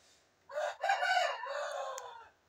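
A single rooster, one of a fighting-cock keeper's birds, lets out one clear, drawn-out crow close by, rising then tailing off over about two seconds in a quiet setting.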